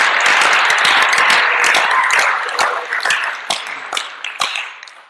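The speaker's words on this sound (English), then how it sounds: "So give yourselves another round of applause." Applause from the crowd at a high school football team's end-of-year awards ceremony: a dense, steady wash of many hands clapping that gradually thins into scattered individual claps and fades out near the end.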